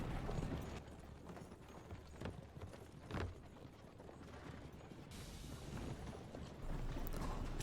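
Horse hooves clip-clopping in Assassin's Creed Brotherhood, a steady run of soft hoof beats under a dense game soundscape with mechanical rattling and a few brief louder knocks, moderately quiet overall.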